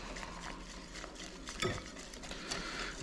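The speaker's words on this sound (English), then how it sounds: "And whisk it all together" A whisk beats batter with baking soda in a bowl, producing soft rhythmic clinks and scraping against the bowl, close and fairly quiet.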